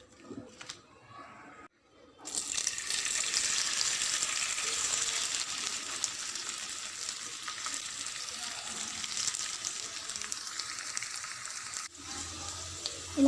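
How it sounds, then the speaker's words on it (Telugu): Ivy gourd pieces frying in hot oil in a kadai, a loud steady sizzle that starts abruptly and carries on unbroken, with no talking over it. "ఇలా బ్రౌన్ కలర్ వచ్చేంత వరకు వేయించుకోవాలండి"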